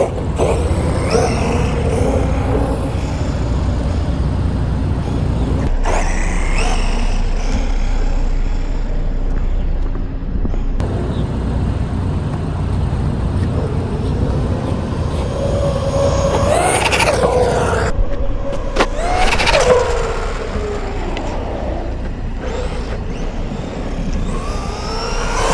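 An Arrma Quake RC car runs at full speed, its motor whining steadily throughout with a few sharper surges and passes as it drives back and forth outdoors.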